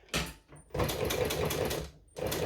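A sewing machine stitching through a leather strap, running in several close bursts of rapid mechanical rattling separated by short pauses, with no talk.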